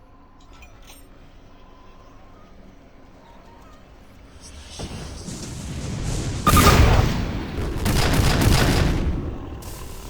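Cluster bomb blasts in Perfected Doom 3, a mod of the video game, building from quiet rumble into a loud burst of overlapping booming explosions and crackling debris, with a voice briefly audible.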